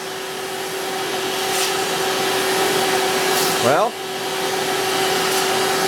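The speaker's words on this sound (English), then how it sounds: "this ballast is not going to come off using a vacuum cleaner" A vacuum cleaner sucks loose model railroad ballast off the track with a steady, loud whirring drone and a constant whine, while a voice speaks briefly near the end.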